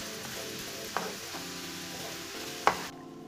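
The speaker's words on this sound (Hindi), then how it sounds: "चम्मच चलाते हुए इसे 5 मिनट के लिए अच्छी तरह भून लेना।" Grated carrots fry in oil for gajar suji halwa while a spoon stirs them, giving a soft steady sizzle with two sharp scrapes or clinks of the spoon against the pan.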